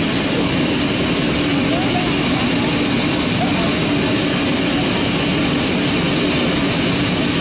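Air Force One's jet engines roar steadily at an international airport, a loud, constant broadband drone with a thin high whine, nearby and without pause.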